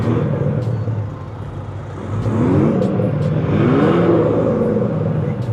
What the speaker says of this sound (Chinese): V6 的声音就是不一样